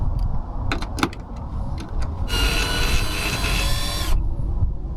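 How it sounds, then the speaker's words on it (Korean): A cordless electric drill backs out star-head Torx screws from a fitting aboard a boat, a steady close whirring run of about two seconds after a few sharp clicks and taps. "드릴로 할까?"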